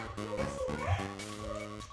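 A dog shut in a room gives a string of short close barks and yips, loud and fairly steady, with no talk over it.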